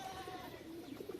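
A pigeon cooing softly, a few low murmuring coos in quick succession, faint and close, with no one talking.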